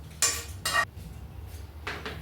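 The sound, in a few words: dry roasting cumin and black pepper in frying pan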